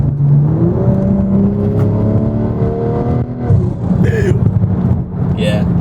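A tuned BMW M340i engine revs up in rising sweeps, dropping briefly between gear shifts before climbing again, steady and close, with a voice talking over it.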